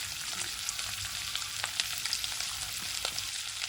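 Bread pieces, bread with egg, frying in a shallow layer of oil, giving a steady close crackling sizzle with small sharp pops scattered throughout. No one speaks.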